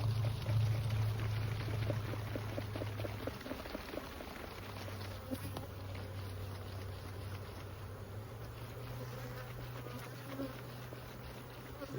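Honeybees buzzing in a dense, continuous drone around an open hive being worked, with a steady low hum throughout and occasional faint handling sounds, no talk.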